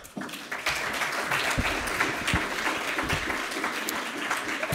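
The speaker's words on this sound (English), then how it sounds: "So big applause for you now." A workshop audience gives steady, dense applause to eTwinning ambassadors, holding at an even level for several seconds with no speech over it.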